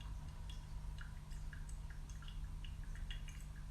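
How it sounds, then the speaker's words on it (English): Water is poured in a thin steady stream over coffee grounds in an Origami dripper with a Kalita Wave filter. It is quiet and close, with faint trickling and dripping over a low steady hum. "I'm going to go in for our third pour."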